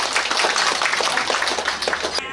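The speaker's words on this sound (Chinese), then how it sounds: "请各位嘉宾再次以热烈掌声欢送我们船长" Warm applause from guests aboard the Victoria 4 cruise ship on the Yangtze, a dense steady patter of many hands clapping close by for the captain, with no voices over it.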